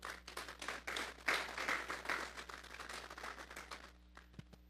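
A church congregation claps together in a dense burst of applause that swells quickly, holds for a few seconds, then thins out to scattered claps, heard from a moderate distance.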